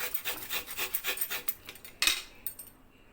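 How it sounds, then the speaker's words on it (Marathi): Coconut grated by hand on a small hand grater, a quick run of rhythmic rasping strokes at close range, then one sharper scrape before it trails off into quiet. "छोट्या खिसणीने मी हे नारळ खिसून घेणार आहे"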